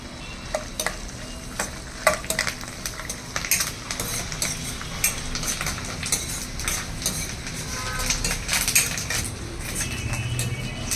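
Curry leaves and dried red chillies sizzle steadily in hot oil for a Telugu mango pulihora tempering, with a spoon or spatula clinking and scraping against the pan in quick irregular bursts, close and fairly loud, no talking.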